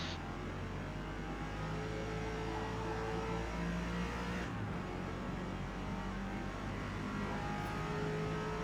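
Lexus RC F racing car engine in a Forza Motorsport B-class race at Indianapolis, a steady loud engine drone with shifting rev tones that holds throughout, no talk.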